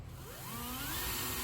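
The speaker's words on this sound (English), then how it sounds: "going to drill a little pilot hole through here and into the trailer floor" A power drill boring a pilot hole into a trailer floor, its whine rising in pitch as the motor spins up and holding steady over about a second and a half, close and alone.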